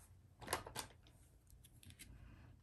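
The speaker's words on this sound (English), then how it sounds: "Cut off some of the ends there." Scissors trimming the ends of paper for a handmade birthday card, two crisp snips followed by softer small cuts and paper rustles, quiet and close with no voices.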